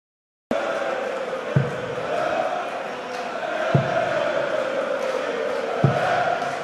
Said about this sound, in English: the crowd certainly chanting for Adrian Lewis